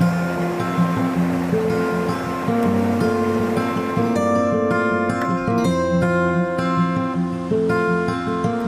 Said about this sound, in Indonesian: Suara air yang deras terdengar nyaring karena saat musim hujan debit air di Sungai Sangkuriang